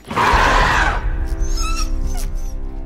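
A dog gives a few high, yelping barks after a burst of rustling noise, fairly close and moderately loud, heard in the film Rise of the Planet of the Apes.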